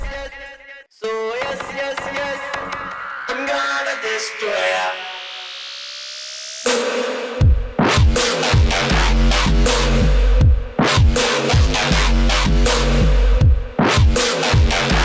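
A dubstep drop: rising synth sweep and choppy stutters, then heavy bass hits and aggressive wobbling synths, loud and dense, with a brief spoken line near the start.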